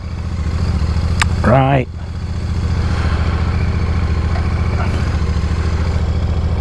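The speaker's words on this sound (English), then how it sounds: "no mistaking the sound of that there parallel twin." A Royal Enfield Classic 650 parallel-twin engine runs with a steady, even low throb close by, and a voice cuts in briefly early on.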